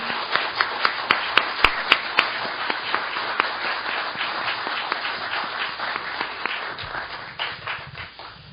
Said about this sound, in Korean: 여러분의 큰 박수가 필요합니다